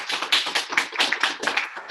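A small audience at an Introduction to Python workshop claps for the instructor: brisk, uneven handclaps close by, in bursts a fraction of a second apart, with no talking.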